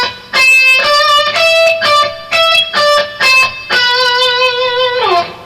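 An intense rock lick is played on distorted electric guitar, a fast sequence of bright sustained notes in repeating groups that descends near the end, loud and close with no talking.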